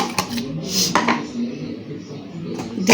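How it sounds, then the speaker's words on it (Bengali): Salt-boiled chickpeas being mixed with cucumber in a bowl, giving soft clinks and scrapes of a utensil against the dish, close and moderately loud, with a voice speaking at times. "আজকে লবণ দিয়ে বুট সিদ্ধ করে রেখেছিলাম এগুলো এখন মাখিয়ে দিব শসা দিয়ে দিলাম"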